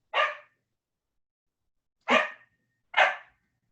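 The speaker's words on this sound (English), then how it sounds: "Dog." Dog barking, three sharp, clear barks, one alone and then two close together after a long pause, with no talk over them.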